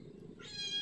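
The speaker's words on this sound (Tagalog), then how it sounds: "Yung pusa guys, oh, gusto na rin mag-almusal" A cat meows near a breakfast table, a short rising call that swells in the second half of the moment, clear and close.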